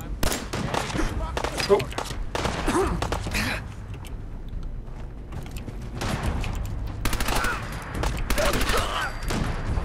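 Rapid gunfire bursts and mechanical weapon clatter from a Fallout 4 firefight play in dense, overlapping volleys, with a man reacting briefly over the action.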